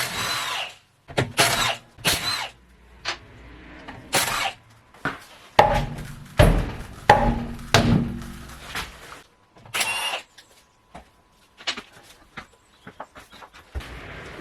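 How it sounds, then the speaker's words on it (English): A power tool whirs in repeated short bursts while 17 mm bolts are taken off the front brakes of a 2018 Skoda Fabia 1.0 TSI, with clicks and quiet gaps between runs. "we're going to remove the 5 bolts. These are 17 millimeters."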